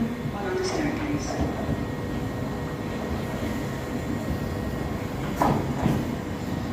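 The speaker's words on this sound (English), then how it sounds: "Train now arriving alongside platform number 1." A London Underground Piccadilly line train pulls into Acton Town station, a steady rumbling roar with brief squeals and a louder surge near the end, under station ambience and a public-address voice.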